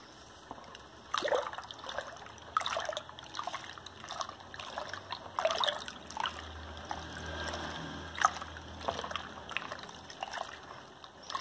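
Homemade lemon detergent is poured in a thin trickle, a soft liquid dribble with small splashes that comes and goes, fairly quiet and with no talk over it.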